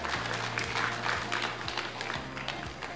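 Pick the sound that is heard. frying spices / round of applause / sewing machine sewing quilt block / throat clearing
round of applause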